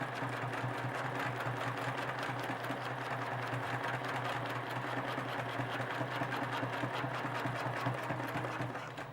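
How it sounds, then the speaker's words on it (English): Sewing machine stitching fabric along lines of existing stitching, a steady fast mechanical whir with even needle ticks running continuously for several seconds, close and moderately loud. "go in between the lines of stitching"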